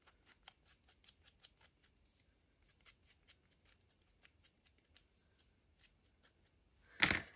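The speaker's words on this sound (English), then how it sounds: "I'm going to get my scissors and just lightly grunge up the sides." Scissors trim paper edges in a quick series of crisp snips, then a louder rustling burst at the end; close and fairly quiet, no talking.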